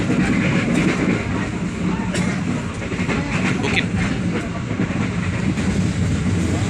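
A train runs past cassava and sugarcane fields in Lampung, Indonesia, giving a steady loud rumble with rhythmic rail clatter throughout, while a voice speaks briefly.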